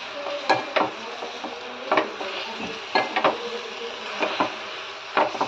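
Amaranth leaves (thotakura) fry in a pan under a soft, steady sizzle, with a spatula knocking and scraping against the metal every second or so.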